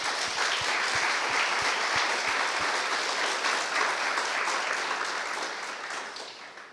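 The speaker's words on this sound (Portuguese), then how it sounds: "Pode aplaudir Jesus." A church congregation applauding, loud and full, with steady massed clapping that holds for several seconds and then tapers off near the end, no speech over it.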